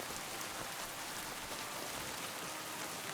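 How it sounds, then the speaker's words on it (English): Rain falling in the medieval video game Kingdom Come: Deliverance II, a soft continuous hiss of drops on surfaces, even and faint, with no voices. "Do I get sick from being out in the rain?"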